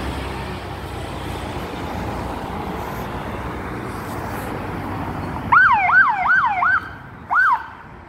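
An ambulance siren wails in several quick rising-falling sweeps over steady traffic rumble, pausing briefly before one more sweep.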